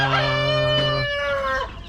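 A chicken, kept alongside Rhode Island chickens, lets out a single loud, drawn-out call up close, ending in a brief trailing squawk.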